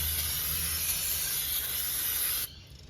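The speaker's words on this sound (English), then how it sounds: "I've just grabbed the brake clean, give it a bit of a spray down to get rid of that excess oil" A continuous brake cleaner aerosol spray hisses loudly and close for over two seconds onto an oily Mercedes ML350 front differential, then cuts off abruptly, leaving quiet background noise.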